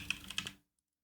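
A few sharp clicks in close succession on a computer setup, close and fairly quiet, stopping into silence after about half a second, with no voices.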